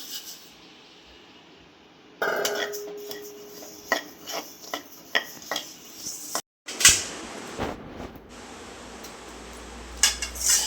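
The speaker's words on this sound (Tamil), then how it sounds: "முதல்ல முதல் சீரகத்தை கொட்டி வறுப்போம்" Cumin seeds dry roasted in a pan, stirred with a metal spoon that rasps and scrapes steadily against the pan with a few sharper clinks, close and fairly quiet over a light background hiss.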